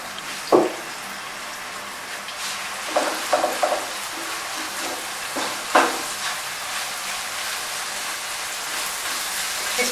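Okra with raw mango, green chilies and spices cooking in a pan, a steady soft sizzle with a few brief scraping stirs of a spatula standing out above it.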